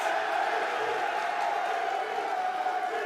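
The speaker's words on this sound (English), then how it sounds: "Can we get some chants for Marky B?" An esports arena crowd at a Call of Duty Major III tournament elimination match roars steadily, a dense sustained wash of cheering and chanting for a player, loud and continuous with no break.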